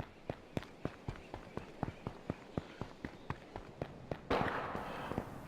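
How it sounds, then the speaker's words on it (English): Rapid gunfire in the survival game H1Z1: Just Survive, a steady run of sharp, evenly spaced shots at moderate distance, ending in a louder burst of noisy crackle. "Gunshot. Gunshot."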